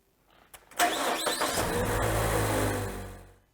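Car engine cranking and catching, a few short starter bursts followed by the engine firing up and running steadily at close range before fading slightly at the end.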